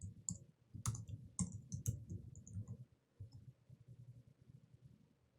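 Keys clicking on a computer keyboard as a password is typed, a quick irregular burst of close taps over a low background hum, tapering off toward the end.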